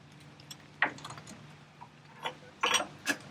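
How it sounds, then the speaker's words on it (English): A hand ratchet snugs the alternator pivot bolt on a Ferguson TO-20 tractor, giving a few short, sparse clicks up close in a quiet space. "Now we tighten the pivot bolt to make sure it's seated properly, but still has a little bit of motion."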